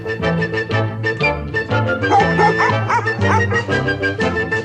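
Dog barking repeatedly in quick yips and bow-wows while being taken into a place, loud and close, with a dense, busy background throughout.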